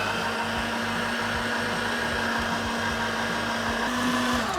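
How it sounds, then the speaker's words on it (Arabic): An electric meat grinder mincing meat for arayes kafta runs with a steady, loud motor whine and hum, continuous throughout with no pauses. "فرامة اللحمة هي من الأدوات اللي لازم تكون موجودة عندكم بالمطبخ"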